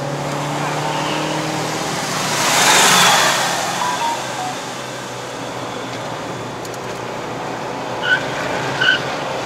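A 2013 Mazda CX-5 2.0L 2WD climbs the Genting Highlands mountain road in Malaysia with its tires struggling for grip. A steady engine and road roar fills the cabin, swelling briefly early on, with small clicks near the end.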